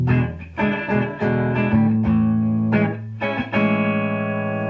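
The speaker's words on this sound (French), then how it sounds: "Voici le son clair de mon ampli." Clean electric guitar through an amp's clean channel playing a few chords and single notes, ringing bright and undistorted, each strum sustaining before the next.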